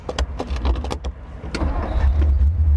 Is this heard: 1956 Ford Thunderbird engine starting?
yes